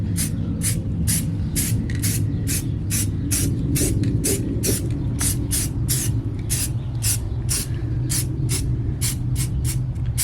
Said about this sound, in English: I'm just gonna get down here and spray this black